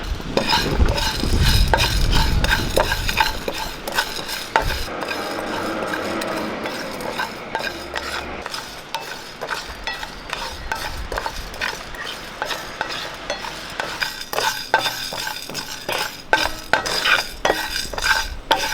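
Whole spices, pepper, cumin, coriander and fennel, dry-roast in a pan while a spoon scrapes and taps against the metal in a steady, close clatter over a soft sizzle, with no voices.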